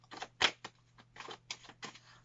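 Tarot cards are shuffled in a series of quick papery riffles and flicks, close and fairly soft, with short pauses between bursts and no talk.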